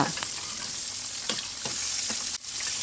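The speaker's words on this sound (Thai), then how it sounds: "ใช้ตะหลิว ราดน้ำมันร้อนๆใส่ลงไปที่เนื้อปลา" Steady crackling sizzle of fish frying in hot oil, with a few soft scraping clinks of a spatula against the pan as hot oil is spooned over; no voices.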